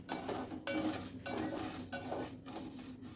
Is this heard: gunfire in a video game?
no